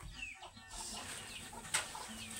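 Chickens cluck faintly from a short distance, a few brief calls rising over a steady wash of outdoor background noise.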